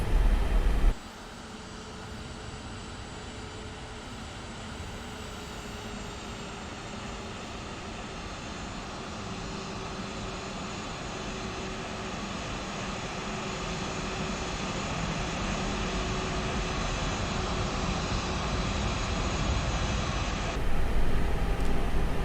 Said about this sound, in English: we are cleared for takeoff